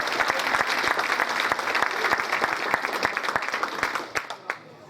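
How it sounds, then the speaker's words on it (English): An audience at a Jefferson Jackson Day political dinner in 2015 breaks into dense, sustained clapping that fills the room, then thins into scattered claps at the end. "How about an applause to that?"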